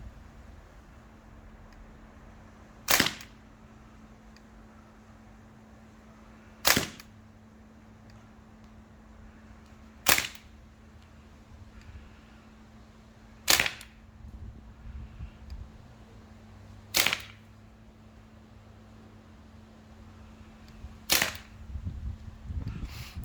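An Umarex Thompson M1A1 CO2 BB submachine gun fires six sharp, loud single shots outdoors, evenly spaced a few seconds apart, with faint background noise between them.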